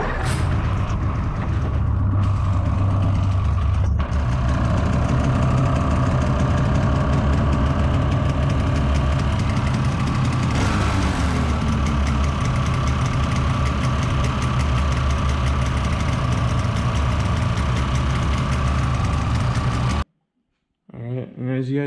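A rebuilt 2013 Polaris Rush 800 snowmobile engine starts and settles into a loud, steady, close idle with a rattling two-stroke drone, then stops abruptly, with someone talking over it.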